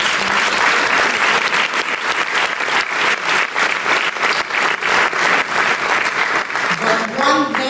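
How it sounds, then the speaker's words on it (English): Audience in a large grand room applauding, dense sustained clapping that fills the space, with a few voices briefly audible near the end. "Let's applaud the Grand House."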